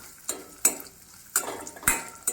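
Raisins and cashews cook in ghee in a metal pan for aval payasam, heard mostly as five sharp ladle clinks and scrapes against the pan over a faint low sizzle, close and without talk.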